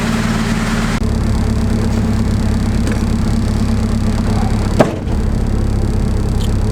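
Car engine humming steadily from inside the cabin while driving, a loud continuous low drone with road rumble and one brief knock partway through, with no speech.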